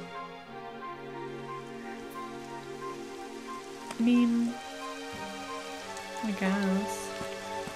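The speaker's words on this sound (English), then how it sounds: "It would have to go and start raining, wouldn't it?" Rain falls steadily on a surface, a soft constant patter under tonal game music, with a brief spoken remark partway through.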